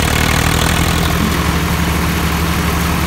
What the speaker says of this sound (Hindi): और भैया चल गया ट्रैक्टर यहाँ पे